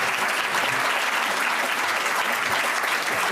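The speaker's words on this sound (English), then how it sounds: "Everyone give a round of applause for Ed." Steady, dense clapping from a sizable conference audience fills the whole stretch, even and sustained without any voices on top.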